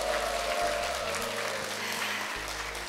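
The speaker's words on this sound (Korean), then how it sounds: "우리 모두에게 한번 박수 주실래요?" An audience at an outdoor cultural performance event in Jindo, Korea, claps in sustained, even applause lasting the whole moment, with a low hum beneath it.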